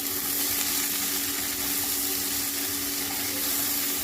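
Soaked green gram and potato hitting a hot village-style palya tempering, a steady loud sizzle and fry with faint watery bubbling, continuous and close with no talk.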